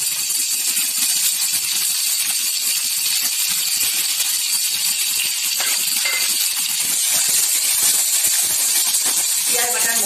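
Ground onion paste sizzles in hot oil in a home kitchen, a dense continuous bright hiss that stays loud and even from start to finish.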